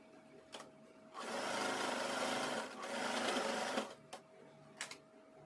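A sewing machine stitches in reverse across a fabric corner, two sustained whirring runs with a short pause between, framed by quieter clicks and handling taps before and after.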